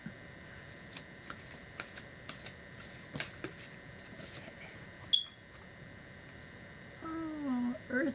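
Oracle cards shuffled and drawn by hand, giving a run of soft papery flicks and slaps close up, followed by a brief electronic beep and a faint tonal warble near the end.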